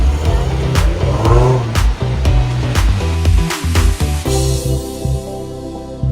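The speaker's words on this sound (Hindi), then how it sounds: "अब हम लोग हैं रेंज रोवर में।" Engine of a Range Rover driving through Gurgaon, a steady loud rumble and road roar with occasional sharp clicks and knocks, heard from inside the cabin with no talking.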